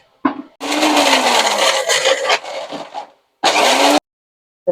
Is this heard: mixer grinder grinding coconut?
yes